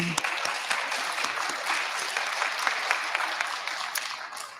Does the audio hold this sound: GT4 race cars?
no